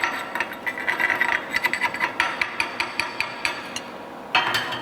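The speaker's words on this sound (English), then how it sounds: "after chipping this slag" Hammer chips slag off a fresh weld bead during padding practice, a quick series of sharp metallic taps in an uneven rhythm, close and clear, ending in a pause and then one louder strike.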